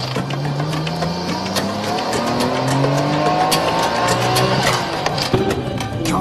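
A race car engine revs hard at full throttle, its pitch sweeping up through the gears with loud, continuous high-revving roar.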